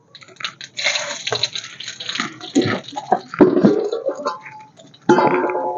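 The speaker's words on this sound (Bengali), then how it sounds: "তেল গরম হয়ে গেছে, তেলে দেখুন দুটো দারচিনি, চারটে এলাচ, চারটে লবঙ্গ ফোড়ন দেবো" Whole cinnamon sticks, cardamom pods and cloves drop into hot oil and sizzle in uneven, sputtering bursts that swell and fade, ending in a fresh loud burst of crackle.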